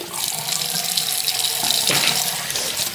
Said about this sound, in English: Just do like a final rinse and then kind of get some of the wetness out.